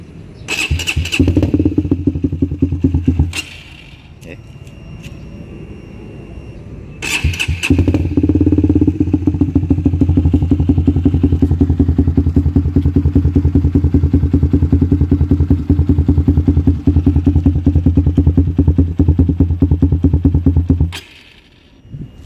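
A Suzuki Sonic 150R motorcycle with an R9 H2 SS aftermarket exhaust starts up, cuts out, restarts and rumbles at a lumpy idle with a few blips, loud and throaty, close by.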